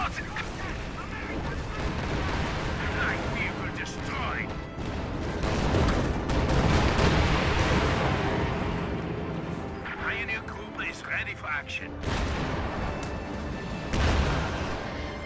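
Stuka dive bomber attack in a World War II tank battle video game, with loud rumbling explosions and crashing blasts rolling through the scene alongside other battle noise, under a commentator's voice.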